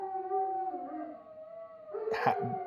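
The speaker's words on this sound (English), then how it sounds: "Coyotes are making them bark." Dogs outdoors howl in long wavering tones, then break into a few sharp barks near the end, sounding at a moderate distance as they react to coyotes.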